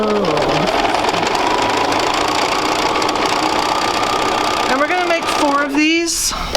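A sewing machine stitching across the top of quilt sampler pieces runs with a steady mechanical whir under continuous talk, then stops and starts in short bursts near the end.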